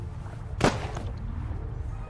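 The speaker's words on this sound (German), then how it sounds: "Ein Schuss!" A single gunshot in the video game The Raven Remastered, one sharp crack about midway that is moderately loud over a low rumbling background.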